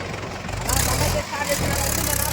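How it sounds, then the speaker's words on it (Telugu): A Sonalika tractor engine, stuck with a broken front tyre bearing, runs with a loud, rough low rumble that surges briefly and carries on steadily, with voices talking over it. "ట్రాక్టర్ స్టార్ట్ చేస్తాను, బండి సీట్ ఎక్కిందన్న."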